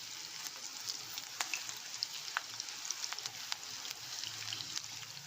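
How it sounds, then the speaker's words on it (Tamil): Okra pakoda frying in hot oil over a medium flame, a steady soft sizzle dotted with sharp crackles and pops, close and fairly quiet, no talking. "நல்லா வேக விட்டு கிறிஸ்பியாக ஃப்ரை ஆகிற வரைக்கும் அப்படியே பொரிச்சு எடுக்க வேண்டியதான்"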